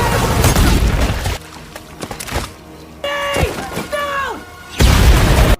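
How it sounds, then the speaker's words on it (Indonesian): A grenade explodes in a film action scene, giving a loud, broad booming burst, followed by quieter thuds and falling whistling tones, then another heavy blast near the end. "granat meledak di dekat keduanya"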